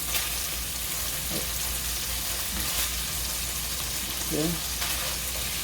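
A homemade burger patty fries in a pan with a steady, dense sizzle throughout, broken by a few faint scrapes as it is moved, and one brief spoken word.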